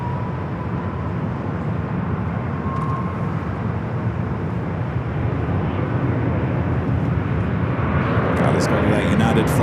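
An airliner rolls for takeoff on runway 24 left at LAX, a steady broad jet roar heard from a distance under a constant background hum, rising slightly toward the end.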